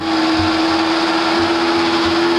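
A mixer grinder grinds grated coconut into a paste, a loud steady motor whine with a droning hum and faint rhythmic thumps as the jar contents churn.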